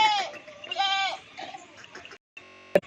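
Goats with kids bleat several times close by, with short wavering calls overlapping and a sharp click near the end.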